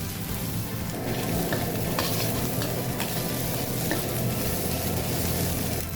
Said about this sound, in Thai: จากนั้นใส่พริกแกงแดงนะครับผม ผัดครับ